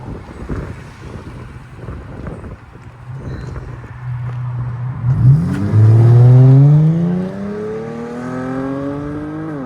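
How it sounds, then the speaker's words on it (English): 2013 Dodge Charger AWD 3.6L V6 with FLO 409 mufflers and rear delete: a low idle under wind noise, then a loud rev swelling and sweeping up in pitch before settling back. "Dodge Charger all-wheel drive V6 with FLO 409 mufflers"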